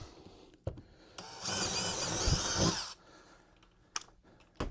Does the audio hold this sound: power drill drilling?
yes